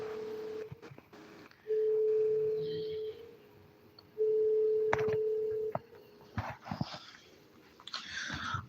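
Phone call signal tones, two long steady beeps separated by a pause, heard faintly beneath room noise with scattered clicks and short bursts of sound.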